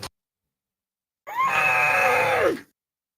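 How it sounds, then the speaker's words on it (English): A man screams once, a loud sustained cry of about a second and a half that rises and then falls away, heard alone after silence. "I had to scream for a second."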